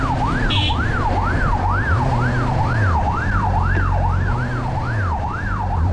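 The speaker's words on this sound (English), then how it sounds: "Following ambulance." An ambulance siren on a street in Ukraine wails loudly and continuously, rising and falling in a steady repeating cycle, with traffic rumble underneath.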